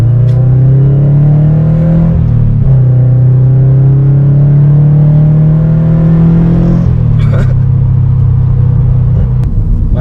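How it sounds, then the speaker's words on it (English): Naturally aspirated Subaru BRZ running on E85 fuel accelerates under load, its engine note climbing steadily as it pulls through the gears, with a gear change around two seconds and throttle lift near seven seconds; loud, close and continuous. "Okay, so we'll get a quick acceleration right now."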